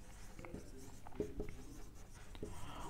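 Close, soft scratching and tapping strokes of a pen or marker as a math formula for a geometric progression's general term is written on a board, coming in short clusters under a man's quiet speech.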